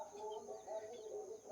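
Soft clucking and murmuring from a group of chickens in a poultry-rearing unit at an agricultural science centre, faint and continuous, with a steady background hum.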